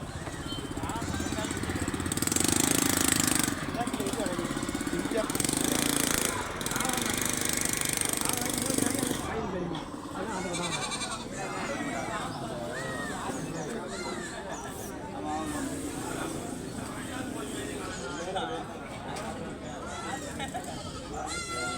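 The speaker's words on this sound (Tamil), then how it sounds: "கடையம் மாட்டு சந்தை லைவ் வீடியோ தாங்க பார்க்க போகிறோம்" Goats bleating at a busy livestock market in Kadayam, several loud calls early on, then fainter bleats amid crowd chatter, motorcycle engines and general market din.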